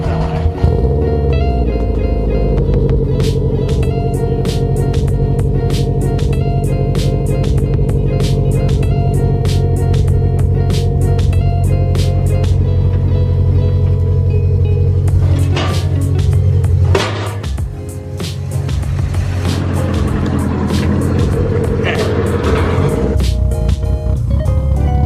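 A Subaru WRX with a blown transmission is driven off a trailer on an awkward incline, its engine droning steadily and loudly with sharp clicks and clatters over the rumble, then changing note near the end.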